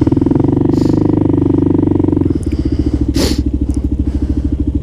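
A Kawasaki KLR650 motorcycle engine idles loudly up close with a steady low thumping pulse, shifting to a slightly different rhythm partway through, with brief faint noises above it and no speech.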